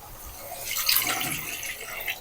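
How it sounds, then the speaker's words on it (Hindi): Water from a glass is poured into a pot of browned chicken on the stove, a short, soft splash and trickle heard close up with no talking. "तो इसमें डालेंगे अब थोड़ा सा पानी।"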